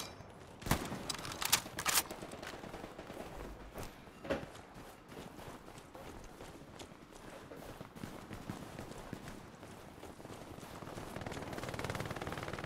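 An MG42 machine gun fires in the World War II game Hell Let Loose: a few sharp bursts of gunfire come in the opening seconds, then quieter scattered movement and footsteps carry on under a low rumble.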